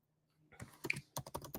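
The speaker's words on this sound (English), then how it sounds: "I'm bad at talking while typing." Typing on a computer keyboard, a quiet start followed by bursts of sharp, close key clicks in an irregular rhythm, with no talking.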